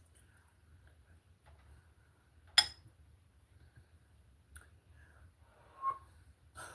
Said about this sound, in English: Y'all heard me whistle?